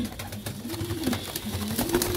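Pigeons coo steadily at a breeder's loft in Faisalabad, low rolling calls repeating close by over a constant background hum with no talking.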